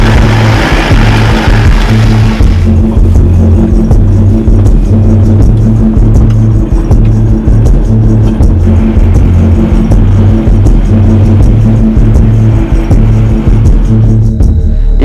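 A car drives along with a loud steady engine hum and throbbing rumble, the tone shifting slightly as it moves, with no voices over it.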